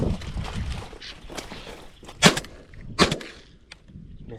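Shotgun fire during a snipe hunt on Florida public land, with two sharp, loud reports about a second apart over rustling and footstep-like handling noise outdoors.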